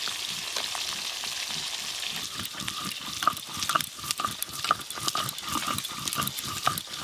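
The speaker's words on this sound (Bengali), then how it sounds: "মাছগুলো কিন্তু বেশ ভালো করে লাল লাল করে ভাজা হয়ে গেল।" Black carp pieces, including oily belly cuts, sizzle and crackle as they fry in hot oil, a steady close-up hiss broken by irregular pops and spatters.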